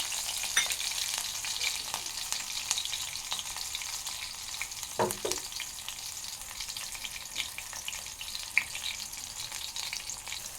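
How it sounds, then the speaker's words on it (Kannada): Green chillies frying in hot oil make a steady sizzle with scattered crackles and pops and one louder stirring clatter midway, close by and with no one talking. "ನಾನು ಇವಾಗ ಮೆಣಸಿನ್ಕಾಯಿ ಹಾಕ್ತಿದ್ದೀನಿ ಒಂದು ಸ್ವಲ್ಪ ರುಚಿಗೆ ತಕ್ಕಷ್ಟು ಹಾಕ್ಕೊತೀನಿ"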